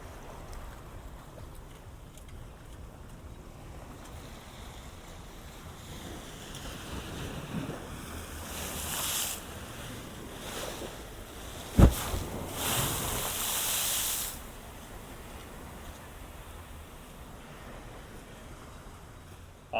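Ocean waves wash along the Waikiki Beach walkway in Honolulu, Hawaii, with a steady wind-blown surf wash and a few louder surges and splashes building and fading midway.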